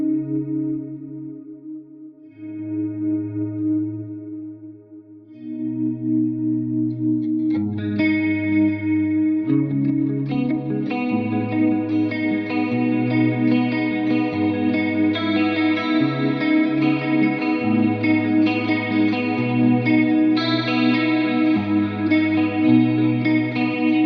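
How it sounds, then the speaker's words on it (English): An electric guitar plays a clean 1980s-style tone through a chorus effect, giving a shimmering, layered sound. Chords and melodic lines ring out steadily and loudly for the whole stretch, with no talking over them. "I'm going to play some more with this delicious 80s clean sound."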